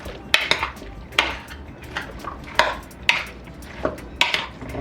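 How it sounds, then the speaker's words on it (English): Seasonings and chicken stirred together in a pot for Jamaican curry chicken, with a spoon clanking and scraping against the metal in irregular, fairly loud strokes. "So you stir them together."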